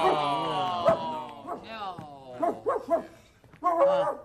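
A dog on Sesame Street barks and yips in short bursts that trail into whimpering sounds, close and fairly loud, with pauses between the barks.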